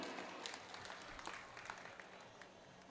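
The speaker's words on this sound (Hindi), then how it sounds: "एक बार इनके लिए जोरदार तालियां हो जाएं।" Faint, steady applause from an audience at an open-air Hindi poetry gathering (kavi sammelan) during the 2024 Mahakaleshwar fair in Sarmathura, a dense patter of many hands continuing for the whole stretch at a distance.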